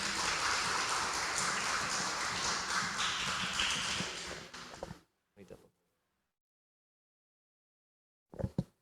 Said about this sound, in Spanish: la recibimos con aplausos también para animarla